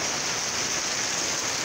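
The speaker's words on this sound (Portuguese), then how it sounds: "Ô, chuva boa! Ô, chuva abençoada!" Heavy rain pours down in Brazil's Potiguar region, a dense, unbroken hiss of water at a constant loud level with no distinct drops or voices standing out.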